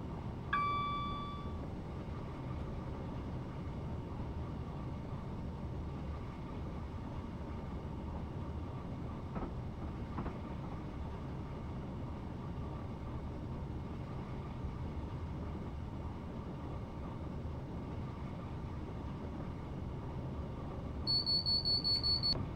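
A steady low rumble of a Class 444 passenger train running along the South Western Main Line in Train Simulator, constant throughout, with a brief chime at the start and an electronic tone near the end.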